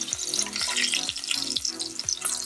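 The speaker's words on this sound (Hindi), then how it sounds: "गार्लिक हम इसमें अभी इसलिए डाल रहे हैं क्योंकि पूरे ऑयल में टेस्ट हो जाएगा" Garlic sizzles in hot oil at the start of a home chicken curry, a steady crackling hiss with soft repeated stirring or scraping strokes and no talking.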